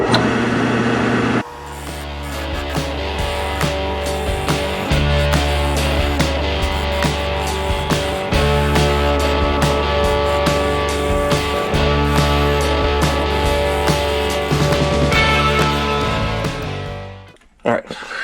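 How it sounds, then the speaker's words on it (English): A wood lathe turns a Purpleheart blank for a knife handle, with a steady motor hum, repeated scraping and cutting bursts, and a spin-down at the end. "Chuck that up in the lathe"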